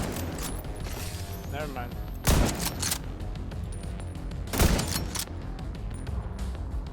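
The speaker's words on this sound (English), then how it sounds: "Whoa, we are being sniped." Sniper fire in The Division 2: two sharp, loud shots a couple of seconds apart cut through steady game noise, with people talking throughout.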